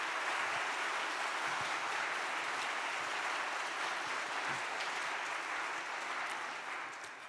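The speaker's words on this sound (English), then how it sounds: "give them a round of applause." Audience applause fills a church gathering, a dense, steady clapping from a large crowd that holds loud and even throughout before easing slightly at the end.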